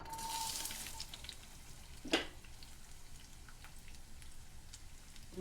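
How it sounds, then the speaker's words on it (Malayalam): Chopped small onions (shallots) hit hot coconut oil for an Angamaly mango curry, giving a faint, soft sizzle with a brief clatter as they drop in, then a low, steady crackle alone. "എണ്ണ ചൂടായി നമുക്കിതിലോട്ട് അരിഞ്ഞു വെച്ചിരിക്കുന്ന ഉള്ളി ഇട്ട് കൊടുക്കാം"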